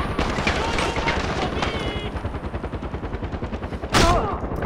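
Rapid, dense gunfire from a Far Cry 4 firefight rattles continuously and loudly, with a heavier burst near the end and voices talking over the shots.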